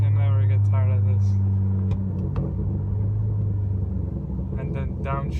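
A 2019 Honda Accord with a loud aftermarket exhaust downshifts, giving a deep, close droning rumble that holds steady and then drops away, with brief pops and a few spoken words over it.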